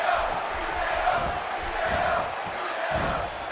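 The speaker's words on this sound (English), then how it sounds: "by the sound of this crowd, I think they're getting what they wanted" A wrestling arena crowd roars in a steady, distant swell throughout a WWE 2K16 Cruiserweight Classic match, a continuous din of cheering voices without any clear commentary.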